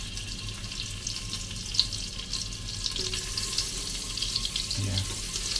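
Butter sizzling in a hot pan, a steady soft frying hiss heard alone, with a brief louder clatter near the end.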